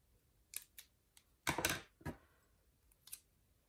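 Scissors snipping planner paper in a quiet room, a few small scattered snips followed by one longer cut and a couple of light clips, close and soft.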